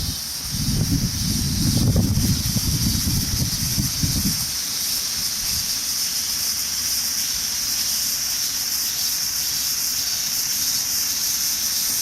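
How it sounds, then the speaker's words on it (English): Cicadas in summer countryside near an old water mill, pond and moated thatched barn, a steady high, even buzz running through the whole stretch, with louder low rumbling and rustle in the first few seconds before settling. "You can hear the cicada in the background."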